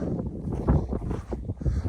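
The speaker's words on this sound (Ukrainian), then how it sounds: "Може трохи буде вітер, але ну, ви вибачайте." Wind gusting across an open farm field of sprouted soybeans, buffeting the microphone with rough low rumbling that rises and falls in uneven bursts throughout.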